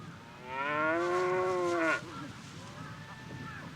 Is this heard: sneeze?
no